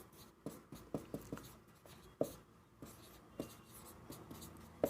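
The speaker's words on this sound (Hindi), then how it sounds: "एडॉप्शन डेट मैं यहाँ लिख देता हूँ" The adoption date is written by hand with a pen in close, quiet, irregular strokes and taps, with a few sharper scratches and no talk.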